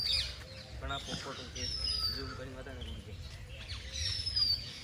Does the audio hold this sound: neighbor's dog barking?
no